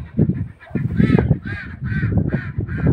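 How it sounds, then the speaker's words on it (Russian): Repeated harsh, nasal quacks from a nearby duck, four or five loud calls in quick succession over low rumbling background noise. "А и он кря-кря-кря."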